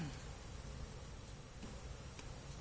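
Honeybees at an opened hive during an inspection give a faint, steady buzz that holds throughout without a break.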